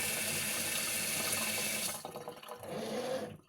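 A kitchen tap runs in a steady loud gush into a sink, then is shut off after about two seconds, leaving short drips and trickles before a brief final splash and silence.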